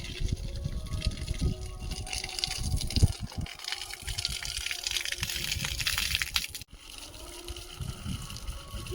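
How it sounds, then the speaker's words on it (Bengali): Water gushes steadily onto soil being soaked to soften it, a continuous close rushing pour with splashing that dips briefly near the end, no voices. "তোমার ওই মাটিতে জল দেবো তো।"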